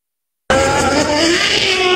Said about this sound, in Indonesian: Panasin ban gas aja terus.